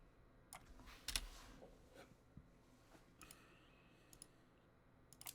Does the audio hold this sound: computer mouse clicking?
yes